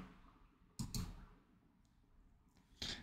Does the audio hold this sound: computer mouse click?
yes